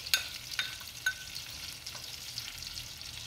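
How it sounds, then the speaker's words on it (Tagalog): Minced garlic sautéing in plenty of butter, with a soft steady sizzle and a few sharp stirring clicks and scrapes near the start. "Saute, garlic."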